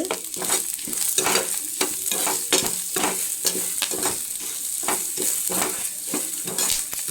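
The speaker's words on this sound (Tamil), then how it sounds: "நல்லா ப்ரௌன் கலரில் வர வர அளவுக்கு சிம்லே வச்சு நல்லா ஃப்ரை பண்ணி எடுத்துக்கோங்க" A rice snack made from ration rice frying on low heat in a pan, with a steady sizzle broken by regular scraping stirs at a brisk, uneven rhythm.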